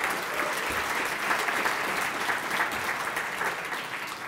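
An audience at a university winter awards ceremony applauds loudly and continuously, a thick, sustained roar of many hands clapping with no break.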